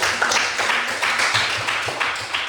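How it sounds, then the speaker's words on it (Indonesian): A small group claps in a gathering, uneven individual claps in loose bursts rather than a dense roar, fairly close and moderately loud, with no one talking over it. "terima kasih tepuk tangan semuanya"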